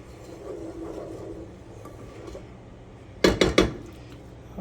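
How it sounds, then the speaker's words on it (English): Pan of chicken Alfredo being stirred, with quiet scraping at first and then three sharp, close metallic clanks of a utensil against the pan in quick succession. "We're going to mix all that in."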